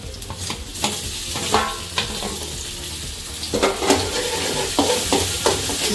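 Onions and tomatoes fry in a pan for homemade Maggi noodles, a loud steady sizzle broken by repeated metal spoon clanks and scrapes as the mixture is stirred.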